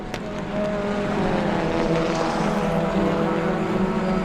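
Touring car racing through turn 4 on a circuit during a race session, a steady, loud engine drone holding a sustained pitch as the car carries speed through the corner, with no speech.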